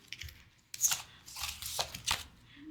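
A tarot card deck is shuffled close up, giving a few quick papery riffles and soft flutters in short bursts, with no talking.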